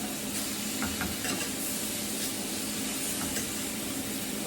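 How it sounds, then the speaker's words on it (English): A utensil stirs a bulky meal with carrots as it warms in a pan, with a steady close sizzle and hiss under repeated scraping and stirring strokes. "So I'm literally just going to stir it up"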